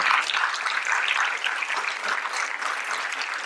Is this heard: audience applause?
yes